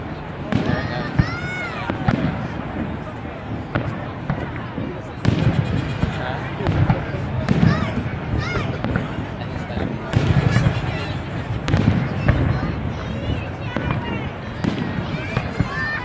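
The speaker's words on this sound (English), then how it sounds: "And they have fireworks on the tower too." Fireworks burst over a tower during a December Sacramento show, with repeated sharp booms and crackles at irregular intervals, some heavier thuds, and people talking and reacting nearby.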